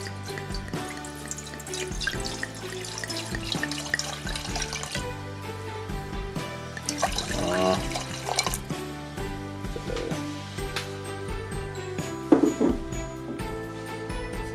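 Red wine poured from a bottle into a cooking pot while making Swedish glögg (mulled wine): a close, steady liquid splashing and gurgling runs for about fifteen seconds, with small surges and no talking.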